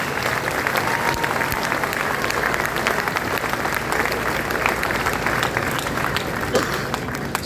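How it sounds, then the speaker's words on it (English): Crowd aboard the aircraft carrier USS Carl Vinson applauds sailors receiving awards, a steady dense wash of clapping sustained at even loudness throughout, with some voices mixed in. "So a round of applause for our Sailors of the Quarters and the Sailors of the Year."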